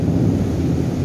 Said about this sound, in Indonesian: Saat ini hujan deras